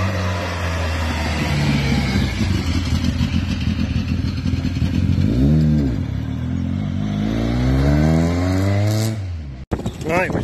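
A Honda ST50 motorcycle engine drones loudly and close while being ridden, its pitch rising and falling as it revs, with a voice speaking over it before a brief cut near the end.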